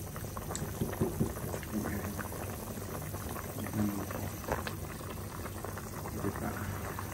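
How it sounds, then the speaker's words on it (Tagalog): Chicken tinola soup with papaya boils in a pot, a steady close bubbling and simmering that runs throughout at moderate level, with a voice speaking lightly now and then. "Pakuluan natin para lumambot."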